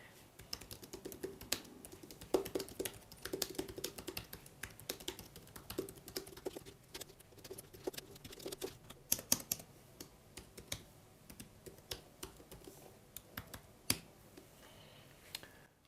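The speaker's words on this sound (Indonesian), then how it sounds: "Sekarang kita coba ngetik di sini" Rapid, irregular key clicks from typing on a ProtoArc XK04 keyboard, close and crisp, continuing in uneven bursts for about sixteen seconds with no talking.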